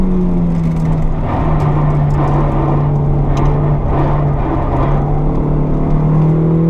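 Honda Civic ED7 accelerating on the Fontenay-le-Comte race circuit, a steady loud in-car engine drone with a sustained hum throughout, slowly shifting pitch under load, no talk.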